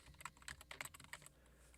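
Quick run of keystrokes on a computer keyboard as a web address is entered into Firefox, a short burst of crisp, close clicks about a second and a half long, with no voices.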